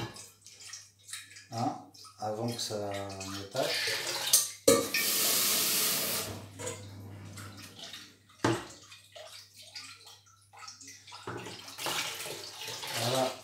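Water runs from a tap over a saucepan being rinsed in a home, a broad steady rush broken by clinks and splashes. Someone speaks French over it and around it.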